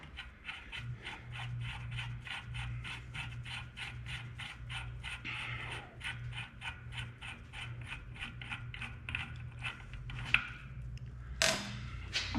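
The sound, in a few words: nut being threaded onto aerator drive shaft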